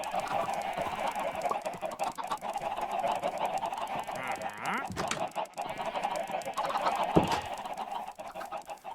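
Chicken clucks from the game Minecraft, a busy run of short honking, clucking fowl calls over steady background game audio, fairly close and continuous throughout.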